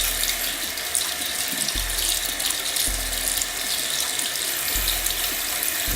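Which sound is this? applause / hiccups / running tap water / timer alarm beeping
running tap water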